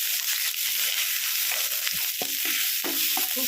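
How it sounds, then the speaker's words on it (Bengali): Ground chicken frying in a little oil hisses with a constant sizzle, while a few scraping stirs and knocks of a spoon against the pan break through near the end, close-up with no talking. "এবার ভালো করে নাড়িয়ে নেব।"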